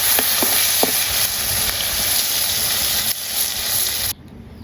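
Soybeans frying in a pan, a loud, dense, steady sizzle close up with a few light stirring clicks, cutting off abruptly near the end.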